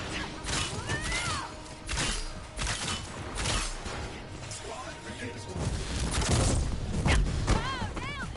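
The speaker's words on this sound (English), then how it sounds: "Explosions." Explosions and smashing impacts in the video game Marvel's Avengers burst repeatedly in a chaotic barrage, with gunfire-like bursts, crashes and electronic effects layered over each other.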